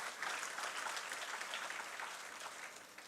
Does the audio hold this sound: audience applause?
yes